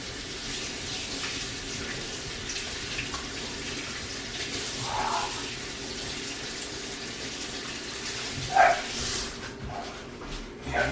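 Boiled eggs are rinsed under a running kitchen tap, giving a steady, fairly faint wash of flowing water with a few small splashes near the end.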